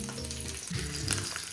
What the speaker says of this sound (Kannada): ನಾನು ಚೆನ್ನಾಗಿರುತ್ತೆ ಎಣ್ಣೆ ಒಳಗೆ ಫ್ರೈ ಆದರೆ ಅಂತ ಹಾಕಿರ್ತೀನಿ